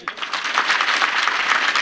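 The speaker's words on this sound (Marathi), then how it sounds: "यानंतरच्या जोरात टाळ्या वाजवा साऊंड सिस्टीमवाल्यासाठी" Audience applause at a Ganesh festival lecture gathering: loud, dense clapping from a large crowd that holds steady for about two seconds.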